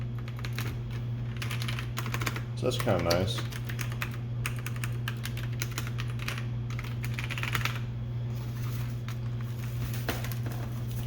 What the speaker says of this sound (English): that's a 9801U keyboard here. It's got linear mechanical switches